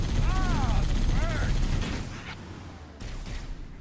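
Gunfire in the Halo: CE Anniversary shooter, a busy stretch of rapid shots and battle noise mixed with game voices and chirping alien calls early on, easing off toward the end.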